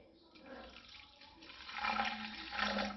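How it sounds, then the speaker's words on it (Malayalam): Water poured into a cleaning mixture for bathroom tiles, a gushing, rising splash that grows louder toward the end, close and alone without talk. "ശേഷം നമ്മൾ വെള്ളം മിക്സ് ചെയ്തിട്ടില്ലല്ലോ, വെള്ളം മിക്സ് ചെയ്യണ്ടേ? വെള്ളം മിക്സ് ചെയ്യാം."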